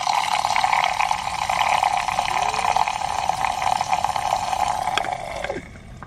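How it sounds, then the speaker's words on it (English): A Nespresso milk frother whips milk with a steady, close whirring and bubbling hiss that holds for about five seconds and then cuts off with a falling whine as the motor stops. No voices are heard. "I'm gonna show you what it looks like while it's frothing"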